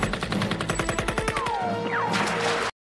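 Rapid bursts of machine gun fire rattle in a fast, steady rhythm for a couple of seconds, loud and close, then cut off abruptly.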